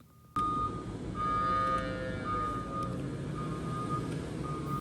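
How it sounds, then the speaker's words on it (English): A vehicle's backup alarm beeps steadily in a repeating pattern over a low engine rumble, fairly close, with no voices. "It's the backup alarm you hear in my videos sometimes."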